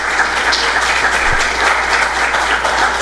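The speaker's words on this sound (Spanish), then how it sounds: "A la doctora Bernardita, la despedimos con un fuerte aplauso." A lecture audience gives a doctor a strong round of applause, steady, dense clapping filling the room evenly throughout.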